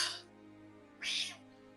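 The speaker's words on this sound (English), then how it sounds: "Cat is participating." A cat gives two short, close meows about a second apart over a quiet room hum.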